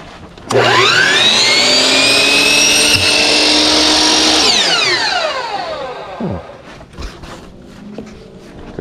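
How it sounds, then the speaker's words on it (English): A chop saw cuts a length of foam pool noodle in a DIY boat trailer guide post job; the motor whines up loudly, runs steadily for about four seconds, then spins down alone. "I've never cut pool noodle with a chop saw before."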